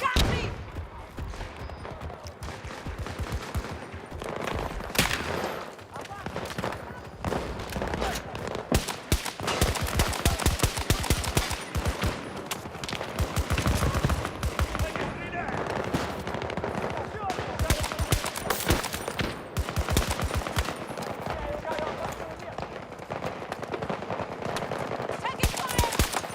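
Sustained video-game firefight with rapid machine-gun bursts and scattered gunshots, loud and dense throughout, with in-game voice callouts mixed underneath.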